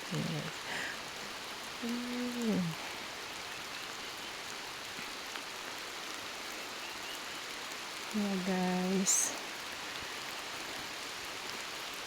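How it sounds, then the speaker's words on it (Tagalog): Steady rain hisses throughout in Sabah, Malaysia, with a person speaking briefly in places over the constant patter. "Umuulan"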